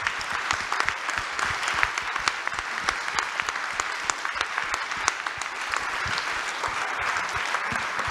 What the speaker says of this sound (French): J'aimerais juste qu'on fasse une grande salve d'applaudissements pour les équipes techniques du Palais Beaumont.